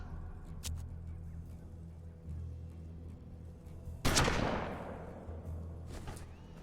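A single loud gunshot bursts out in the turn-based western game Hard West, its boom trailing off over a low steady background hum, with a few smaller clicks around it.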